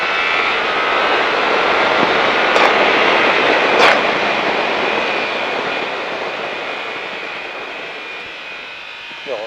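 A motorcycle at the La Ferté Gaucher circuit runs at full throttle, giving a steady, loud engine roar that holds for most of the stretch, then eases slightly toward the end.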